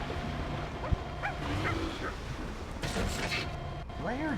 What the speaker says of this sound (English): Do I hear a dog somewhere?